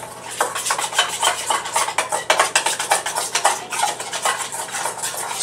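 A spoon stirs homemade ranch salad dressing in a bowl, making quick, rhythmic scraping strokes and clinks against the sides. The stirring is close and continuous, with no talking.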